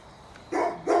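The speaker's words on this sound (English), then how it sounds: "Neighbor's dog's going nuts." A neighbor's dog barks twice from some distance, two short separate barks over a quiet outdoor background while someone works on the carburetor of an M-170 Jeep ambulance.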